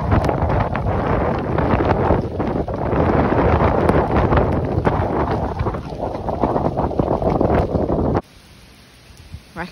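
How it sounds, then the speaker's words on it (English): Strong, gusty wind buffets the microphone outdoors at a horse yard, a loud broadband roar for about eight seconds that then drops abruptly to a much quieter background. "It's not cold, but just blinking windy."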